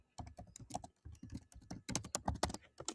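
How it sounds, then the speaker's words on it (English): Fingers tap quickly on a computer keyboard in an irregular rhythm of close, crisp keystrokes. Short pauses separate the bursts, and no voices are heard. "You can hear me typing now."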